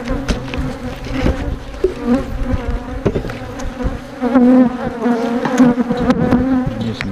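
Honey bees buzz steadily and densely close by while nuc hives are being made. The droning hum continues throughout, with no talk.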